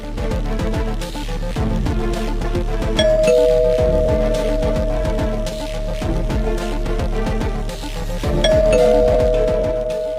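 An electronic doorbell chimes twice over a repeating melodic tone, loud and close, with no talking.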